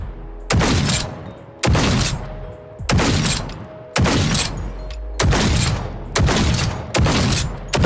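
Heavy pistol shots in the VR shooter game H3VR, seven loud booming reports fired one at a time at a steady pace, each with a long decaying tail before the next.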